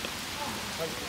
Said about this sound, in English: So rain coming down pretty hard now.